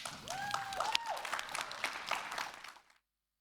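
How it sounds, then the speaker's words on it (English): A panel audience applauds, a dense burst of clapping that thins out and ends after about three seconds, with faint voices and a brief whoop in the mix. "give a big round of applause for MUSH"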